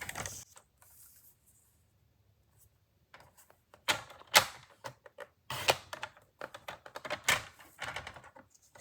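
A paper trimmer cuts cardstock pieces for a trellis card in a run of crisp, close clicks and sliding scrapes. The bursts are irregular, with a quiet pause near the start, and there is no talk.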